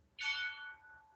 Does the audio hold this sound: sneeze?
no